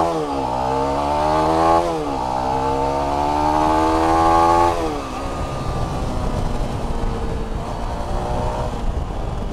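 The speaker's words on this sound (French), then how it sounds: "Je vais vous faire une petite accel, hein, quand même." A Zontes T310 trail motorcycle accelerates hard through the gears, its engine note rising in loud revving sweeps with brief dips at each shift, then settling into a rougher, lower drone near the end.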